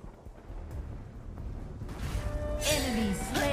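A turret is destroyed in the Wild Rift mobile battle game: a low, rumbling boom swells and builds over a few seconds, with bright crackling and tonal effect sounds rising toward the end.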